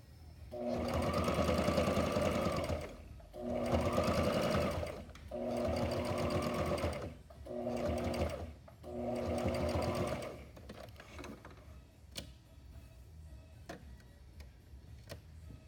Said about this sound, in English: I'm going to sew down that side right here.